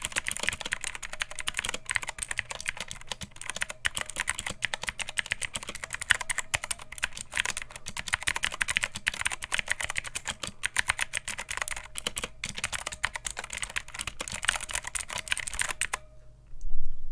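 Rapid, continuous random typing on an AJAZZ AK33 RGB mechanical keyboard, a dense close clatter of light, hollow-sounding keycaps that stops abruptly near the end.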